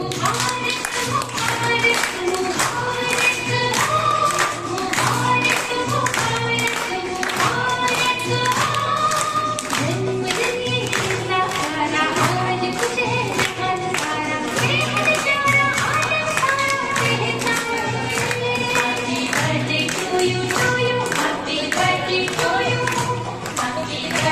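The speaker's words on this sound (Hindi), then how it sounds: "तालियां बजाओ, तालियां।" A birthday celebration crowd claps steadily and rhythmically, loud and sustained throughout, with music and voices mixed in underneath.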